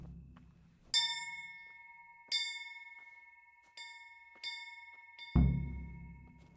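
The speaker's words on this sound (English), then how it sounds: "I'm ringing a bell" Church bell in the Kingdom Come Deliverance game struck several times at irregular intervals, each clear metallic ring decaying slowly, followed by a dull low thud at the end, with no talk.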